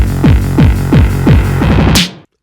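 A Korg MS-20 mini synthesizer plays a loud, dense patch of pulsing bass with downward pitch sweeps roughly every third of a second. A faster flurry of sweeps and a rising noise burst follow before it cuts to silence.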